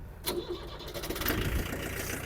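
The diesel engine of a Yanmar FX-42 mini tractor cranks and catches, settling into a rough, steady rumble close by.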